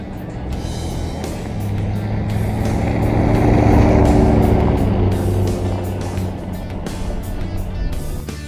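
A jeep drives down an old WWII-era airfield runway near Luke Air Force Base. Its engine drones steadily and close, swelling a little midway and then settling back, with no talk.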